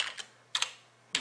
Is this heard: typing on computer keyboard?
yes